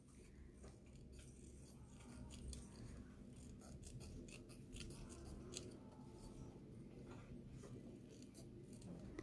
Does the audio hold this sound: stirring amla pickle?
no